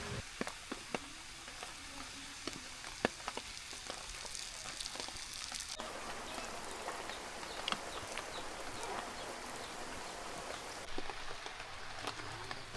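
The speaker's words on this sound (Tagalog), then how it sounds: "Tuluyang bumagsak na nga ang malakas na ulan." Steady rain pours down on a campsite in Santa Maria, Laguna, with a dense hiss, and scattered louder drops patter and tap on a nearby surface.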